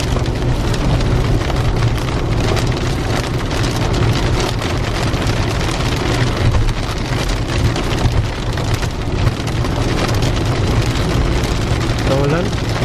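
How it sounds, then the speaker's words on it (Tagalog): Heavy rain pounds on a car driving along a highway, making a loud, unbroken roar of drumming drops and road noise that fills the whole stretch. "Pero pag ganitong malakas yung ulan"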